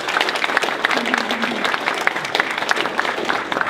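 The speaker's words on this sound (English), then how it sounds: "just give them a round of applause" Audience applause in a lecture hall for two VSAT graduates, a steady wash of many hands clapping at moderate volume, with a faint voice briefly audible beneath it.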